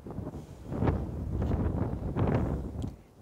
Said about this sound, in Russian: И ветер такой сильный.